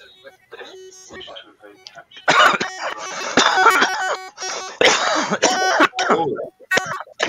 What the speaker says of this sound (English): I can hear them hacking and coughing already